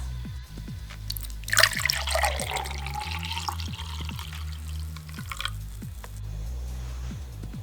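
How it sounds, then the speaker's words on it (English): Homemade herbal drink, resembling an unsweetened lemon tea, poured into a glass, giving a close liquid trickle with splashy spattering and light drips, steady throughout without speech. "Now it's time to pour some into my glass."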